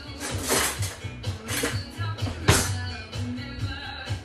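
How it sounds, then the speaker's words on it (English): A spoon is picked out from among metal pots and utensils while cooking caldo de chicharron, giving several close clinks and clatters of metal against metal over a low hum. "Let me grab a spoon here real quick."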